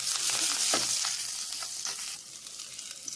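Chopped ginger frying in hot oil for a Mangalorean-style butai pulimunchi: a steady, close sizzle with a few stirring scrapes, fading slightly toward the end and heard alone without any talk.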